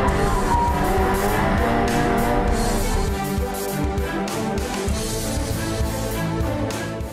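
A 1997 Nissan 240SX engine roars steadily at high revs while drifting, tires squealing and scrubbing across pavement, loud and continuous for the whole stretch with no talking.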